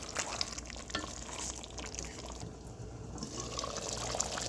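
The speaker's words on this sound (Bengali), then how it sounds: "এখন আমি একটু নাড়া দিব, মাংসটা কষানো পর্যন্ত অপেক্ষা করব।" Chicken curry meat browning in a pan, a dense steady sizzle with bubbling and a few faint stirring knocks, no voices.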